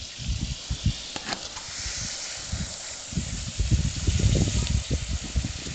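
Onions fried to light golden brown sizzle steadily in a pan for Madras vada curry as chopped tomatoes go in, a close, continuous hiss with bursts of crackle and stirring noise, no talk.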